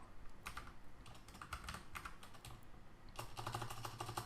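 Quiet typing on a computer keyboard, a run of distinct key clicks in uneven bursts, close and faint, with no voices.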